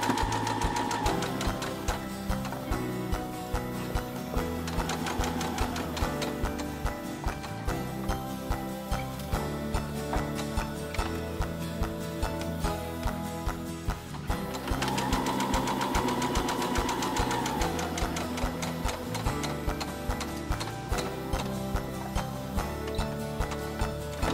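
A sewing machine stitches a pincushion and stuffed heart project, running in a steady, continuous mechanical rhythm for the whole stretch with no talking, over a constant tonal background.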